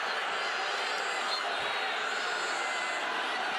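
A basketball arena crowd reacts to a disputed foul call at the O-Dome during Vanderbilt vs Florida. It is a steady, loud roar of many voices booing and shouting, with no breaks across the moment.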